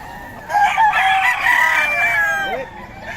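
A young rooster (stag) crows once in a ragged, rising-and-falling call lasting about two seconds, close by, with light clucking and faint background voices.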